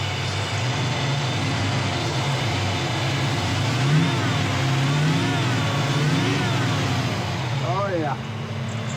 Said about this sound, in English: it's a little bit harder for me to rev it up from here.